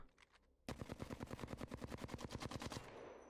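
R-301 assault rifle firing full-auto in Apex Legends: one loud, sustained burst of about twenty rapid, evenly spaced shots lasting roughly two seconds, then a short fading tail.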